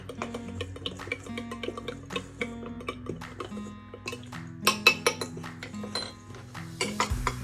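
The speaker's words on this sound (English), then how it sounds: "in the jug we have all of our wet ingredients, and I'm going to stir that up" A spoon stirs wet vegan chocolate cake ingredients in a jug, tapping and clinking against the sides in a quick, steady rhythm that grows busier and louder toward the end.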